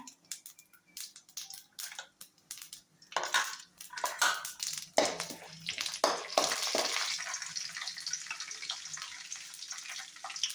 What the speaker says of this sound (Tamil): கொஞ்சம் கடுகு, கொஞ்சம் ஜீரகம், கடலைப்பருப்பு, இது எல்லாம் நல்லா பொரியட்டும்.